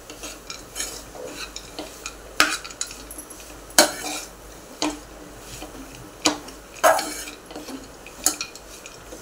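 A spoon works a sticky mix of roasted dates and dry fruits in a pot, giving sharp intermittent clinks and scrapes against the metal at an irregular rhythm, fairly close, with no voices.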